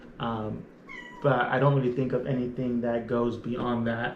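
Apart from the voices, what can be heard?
cat meowing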